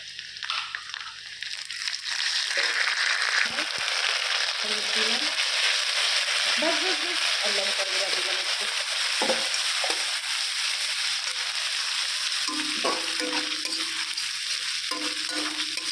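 Ginger, cumin and green chili paste frying with lightly browned onions for a chickpea curry, a steady close sizzle running throughout with scraping stirs and clinks of a spoon against the pan.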